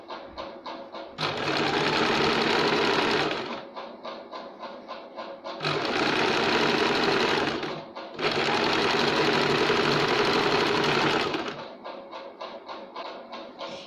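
A sewing machine double-stitching a lined katori blouse, running in three long loud bursts of rapid whirring with softer slow ticking stitches between them, close up.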